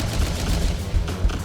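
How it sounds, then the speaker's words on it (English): Rapid gunfire from a ship in the shooter MF-01 Aerostrike, a dense steady stream of shots with low thumps under a constant noisy wash. "I could just shoot with the shield"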